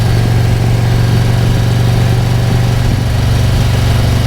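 A motorcycle running an S&S 465 cam rumbles loud and steady at close range, its slightly lumpy, uneven exhaust pulse droning without pause.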